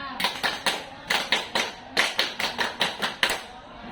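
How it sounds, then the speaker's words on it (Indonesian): A group of scouts performs the tepuk pramuka clap, a rapid, patterned series of about fifteen crisp claps in uneven rhythmic clusters, fairly close and moderately loud, with no talking. "Tepuk pramuka."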